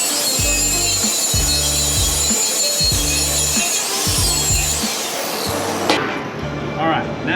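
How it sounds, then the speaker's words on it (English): Angle grinder cleaning surface rust and mill scale off a carbon steel weld test plate, a loud continuous abrasive whine with a repeating ratcheting clatter underneath, close by and steady throughout. "grab you a grinder and clean up any surface rust, any mill scale, anything"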